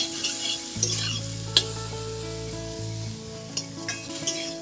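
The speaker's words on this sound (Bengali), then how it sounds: "আর দিয়ে একটু সর্ষের তেল দিয়ে দেবো লাল লাল করে আমরা ভেজে নেব" Brinjal frying in mustard oil sizzles steadily in a pan, with occasional stirring scrapes and light utensil clinks, close and alone under a low background hum.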